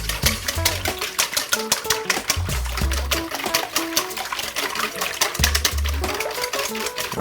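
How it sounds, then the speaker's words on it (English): Six eggs are whisked in a bowl with a quick, steady run of close clicking strokes over a low musical background. "we're just gonna whisk this real quick"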